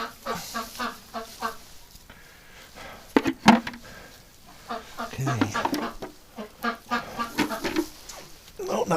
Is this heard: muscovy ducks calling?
yes